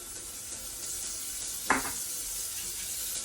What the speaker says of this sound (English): As soon as the butter starts to sizzle, we're gonna throw in our onions and garlic